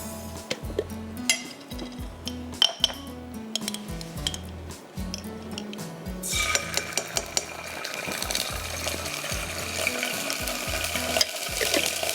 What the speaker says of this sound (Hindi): इसमें हम डालेंगे half tea spoon garlic paste, 2 tablespoon chopped प्याज और 2 टेबलस्पून शिमला मिर्च।